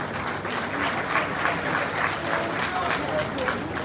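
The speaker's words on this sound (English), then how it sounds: "a round of applause to remember the late Arakunrin Olurotimi Akeredole" A round of applause from the audience at a security stakeholders summit, a dense, steady patter of clapping carrying on evenly for a few seconds.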